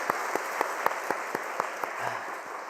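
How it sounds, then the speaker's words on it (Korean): Church congregation claps after worship singing at a Sunday evening service, a moderately faint, even round of applause with distinct rhythmic claps standing out over a soft hall wash. "우리 하나님께 영광의 박수 올리도록 하겠습니다."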